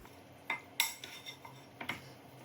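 A utensil scrapes and clinks against a bowl while BBQ chicken drumsticks are tossed to coat them in sauce, in a handful of separate, fairly quiet strokes.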